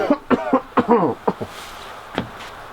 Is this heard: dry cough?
yes